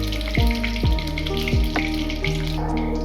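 A bay leaf and a cinnamon stick frying in smoking-hot oil, a close sizzle with a few sharp spoon knocks against the pan.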